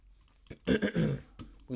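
A man lets out a single close, guttural burp lasting about half a second, with a brief voiced sound just after it.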